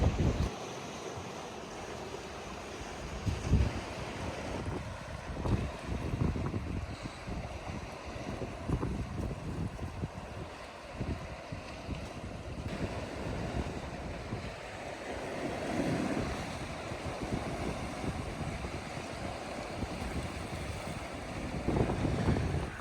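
Sea waves on the East Coast of Scotland, a steady wash of surf mixed with wind buffeting the microphone, continuous and moderately loud with no talking.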